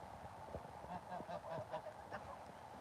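Several geese honk in a loose series of nasal calls at a moderate distance on a farm, with soft background noise and no talking.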